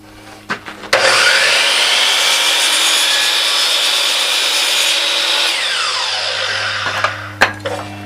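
A saw cuts through a wooden picture-frame piece in one continuous, loud stroke-driven run lasting most of the clip, with a few short knocks and clunks before and after the cut.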